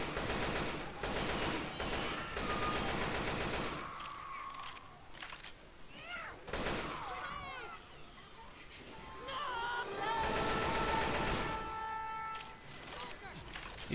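Rapid gunfire from Left 4 Dead 2, loud bursts at the start and again near the end, with game sounds and speech in between.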